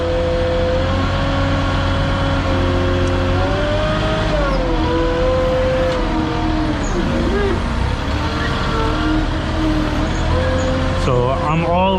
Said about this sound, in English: Do lock the differential, pull back, and then drive forward.